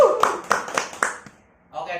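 A few quick hand claps ring out in a short burst, close by, at the opening of an Indonesian talk show, with a voice speaking Indonesian around and after them.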